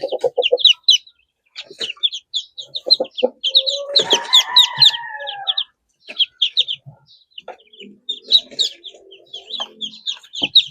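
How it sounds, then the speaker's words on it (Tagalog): A mother duck and her ducklings in a brooder call close by, with rapid high peeping in quick bursts and a louder, harsher call in the middle, broken by short pauses. "Kasama natin si Mama Duck mga kabokals para merong magsusukob sa kanila"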